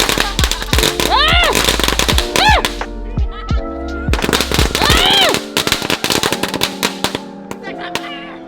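Rapid bursts of fireworks bang and crackle in quick succession, loud and close, with whistling rising tones between the blasts and a few voices in the background, on Cape Cod.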